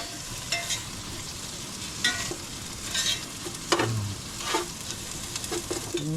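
Garlic and onion sauté in a pan, a steady low sizzle broken by scraping stirs and occasional sharp clinks of the utensil, close up with no talking.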